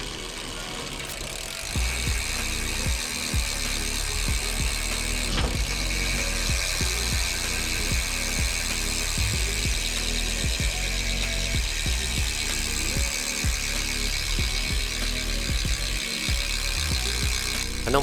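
A new bicycle cassette hub freewheels, giving a continuous loud, rapid ratcheting buzz of pawl clicks that runs steadily for the whole stretch, close-up with no talk.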